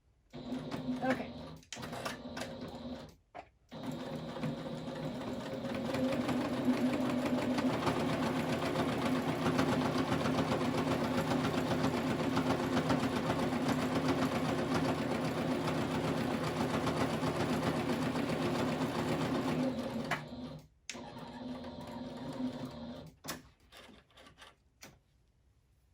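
A sewing machine runs steadily for about fifteen seconds as fabric for an upcycled face mask is fed under the presser foot, with a loud continuous whirring drone and brief quiet pauses before and after.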